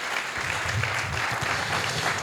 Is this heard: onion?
no